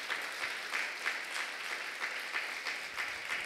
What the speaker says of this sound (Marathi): त्या पुनर्स्थित प्रभू येशू ख्रिस्तासाठी मोठ्याने टाळ्या वाजून धन्यवाद देऊया